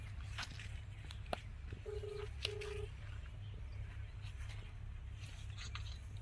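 Telephone keypad tones sound as two short dialing beeps in quick succession, faint against a low steady hum and scattered clicks in a quiet room.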